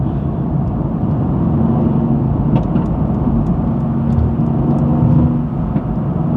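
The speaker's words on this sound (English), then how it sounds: "If I'm driving in the fast lane, we better be at least going the speed limit, because I'm paying to be here." Car cruising in the fast lane of a highway, passing a slower car, with a steady, loud, close road and engine roar throughout and no clear peak as it overtakes.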